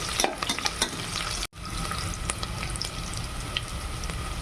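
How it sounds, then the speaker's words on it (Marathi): Whole spices sizzle in hot oil in a pan for khichdi while a spoon stirs them, with steady frying crackle and scattered scraping clicks close by, one brief gap breaking the sizzle. "आता खडे मसाले मस्त मिक्स करून घेऊया. छान प्रकारे तळले पाहिजे."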